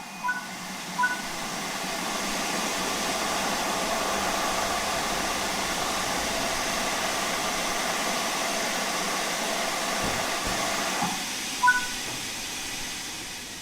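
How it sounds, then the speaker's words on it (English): Steady, continuous hiss from the large ejector on an LMS Stanier Class 8F steam locomotive in Train Sim World, holding even for over ten seconds with a brief dip near the end and faint clicks. "Use the large ejector to quickly increase the vacuum."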